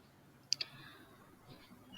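A pair of quick, light mouse clicks close together, soft and near, on a computer while setting up an Amazon sponsored products ad campaign, with no talking.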